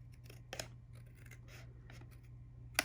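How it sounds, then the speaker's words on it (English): Scissors trim a small strip of excess paper from a handmade birthday card, giving a few soft, close snips and rustles in a quiet room, ending with one sharper snip. "I'm just gonna trim that off."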